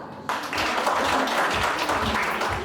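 Wedding guests applaud at a celebration in Pidhaitsi, a sudden burst of many hands clapping that rises sharply and stays full and steady to the end, with no voices over it.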